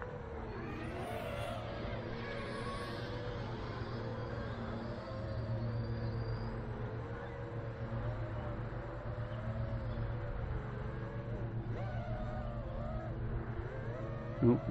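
Eachine Wizard X220 V2 FPV racing drone in slow flight, its motors giving a continuous buzzing whine that rises and dips in pitch, steady and fairly close.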